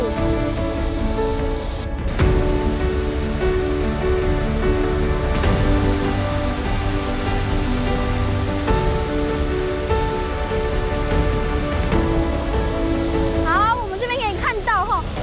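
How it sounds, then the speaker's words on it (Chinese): A loud, steady roar of a 98-metre waterfall in a forest gorge in Japan fills the whole clip, with sustained tones, like background music, running underneath. "瀑布群已经越来越多了，也都蛮壮观的"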